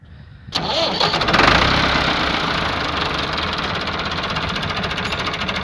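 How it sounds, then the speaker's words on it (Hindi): A 1982 Massey Ferguson MF 265 tractor with a 60 hp engine is started after near silence, then settles into a loud, close, steady idle with a rhythmic diesel knock. "और हुण असी ट्रैक्टर नूं स्टार्ट करांगे"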